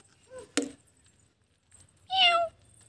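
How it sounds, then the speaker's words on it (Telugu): A cat meows once, short and clear at close range, after a sharp knock and faint murmurs outdoors, in an otherwise quiet setting. "క్యాట్ వస్తుంది"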